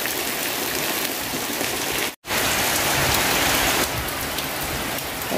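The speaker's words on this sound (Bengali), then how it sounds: "আর বাংলাদেশে এখন বৃষ্টি" Heavy rain falls in Bangladesh, a steady, close rushing hiss of drops on surfaces, briefly cut by a short gap before resuming at the same intensity.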